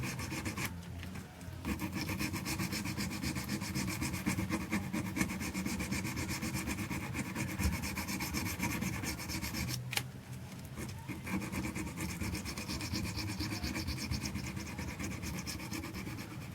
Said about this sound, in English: we've sanded these frets with 220, 320, 400, 600, and we're now up to 800 grit sandpaper